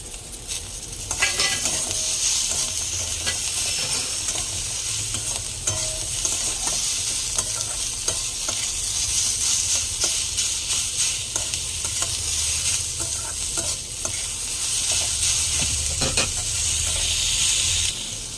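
Pumpkin peel and tomatoes fry in a pan for a Bengali pumpkin-peel chorchori, a steady loud sizzle broken by frequent scrapes and clinks of stirring, close and continuous with no talk.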